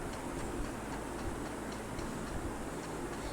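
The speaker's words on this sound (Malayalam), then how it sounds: "ഓ താൻ്റെ ട്രെയിൻ പോകുന്നു. വേറെ സ്റ്റേഷനിലോട്ട് പോവാ ട്രെയിൻ." A train in the video game Free Fire departs the station, a steady loud rumbling rush with faint rhythmic clicks running continuously under a noisy background.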